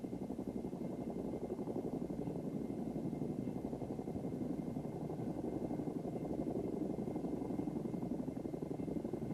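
A helicopter hovering in position for a cargo hookup: steady low rotor and engine drone, constant and moderately distant, with no talk.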